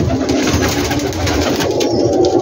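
A brief burst of many pigeons cooing together on a big rooftop loft in Gujranwala, a thick, close, unbroken murmur of low calls.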